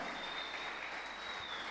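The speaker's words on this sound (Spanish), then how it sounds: "dale un fuerte aplauso" Church congregation applauding together, a steady, dense clapping that fills the room at a moderate distance with no voices over it.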